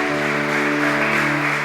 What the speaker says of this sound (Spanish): Ofréndale un aplauso al Señor, dándole la gloria y la honra.